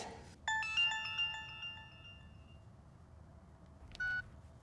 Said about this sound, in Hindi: शिरीन, आंटी फोन नहीं लग रहा है, नहीं उठा रहा है वो फोन।